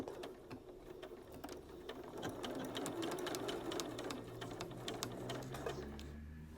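A sewing machine stitches fabric for a jacket, running a steady rapid mechanical chatter close up for several seconds, alone with no talking.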